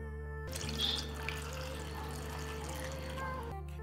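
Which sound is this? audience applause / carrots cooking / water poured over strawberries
water poured over strawberries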